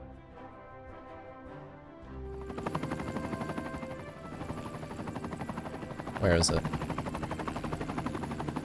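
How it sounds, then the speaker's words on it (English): A helicopter in the Cities Skylines city-building game rises into a loud, continuous rotor chop after a quieter opening, with a sharp burst partway through and a person speaking over it. "Whoa, helicopter jump scare."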